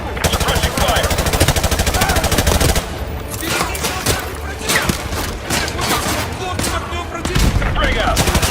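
Rapid sustained automatic gunfire lays down suppressing fire in a Call of Duty Modern Warfare battle, loud continuous bursts up close that give way to scattered shots and thuds before hammering on again. Voices are heard under the shooting.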